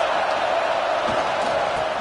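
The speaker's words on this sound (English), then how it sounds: "This crowd trying to make life miserable for this offense." A stadium crowd at an American football game roars loudly and steadily throughout, a dense, unbroken wash of cheering noise.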